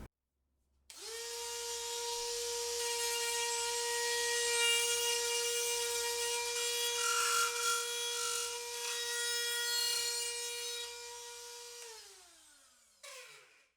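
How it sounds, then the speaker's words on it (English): A high, steady whine of a Ryobi Rotozip rotary cutter grinding into a plastic electrical box in drywall, loud and continuous for about eleven seconds before winding down. "that louder pitch is when you're starting to cut the plastic"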